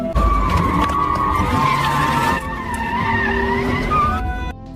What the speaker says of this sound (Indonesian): Sanwo hampir saja bertabrakan dengan sebuah mobil